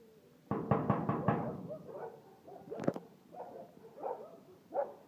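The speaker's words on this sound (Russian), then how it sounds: "мы сейчас попробуем постучаться" A quick series of five or six firm knocks on a door, then a sharp bang, followed by scattered softer thumps and faint barks further off.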